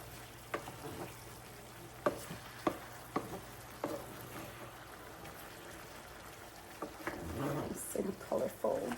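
Bell peppers, hot peppers, thyme, onion and crushed garlic are stirred into a frying pan, with soft scraping clicks and a low sizzle, faint and close, under occasional quiet talk.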